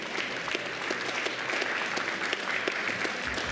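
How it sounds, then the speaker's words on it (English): Crowd at a VEX robotics tournament in Benzie, Michigan giving dense, steady applause with many overlapping hand claps, fairly close and sustained. "Clap it up for her."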